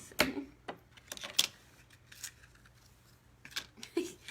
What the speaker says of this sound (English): And just cut a little excess.